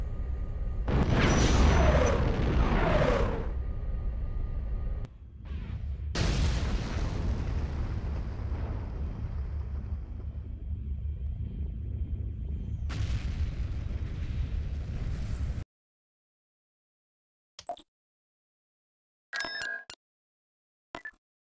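Laser cannon fire and explosions from the strategy video game Star Wars: Empire at War, a loud rumbling blast followed by sustained roaring bursts, then silence broken by a few short sharp pops.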